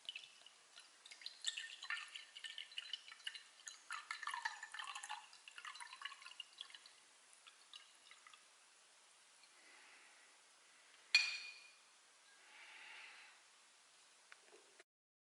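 Homemade turbo cider trickles and drips from a bottle into a glass in quiet, soft liquid splashes, followed by a sharper clink and a brief gurgle near the end.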